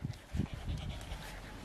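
A tired dog at a children's birthday party pants softly in short, quick breathy bursts, faint and close in a quiet room.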